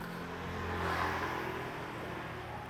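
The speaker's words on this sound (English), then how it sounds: "As all these motorbikes pass by, everyone's going to work, school, shopping" Motorbikes pass along a Bangkok street in the morning, a steady engine whir that swells slightly as one goes by, moderately distant within constant traffic noise.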